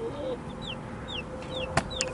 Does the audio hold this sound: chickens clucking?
yes